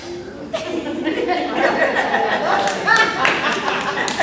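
A church congregation claps lightly and unevenly, scattered hand claps mixed with murmuring chatter and a few chuckles, with voices talking over the clapping throughout.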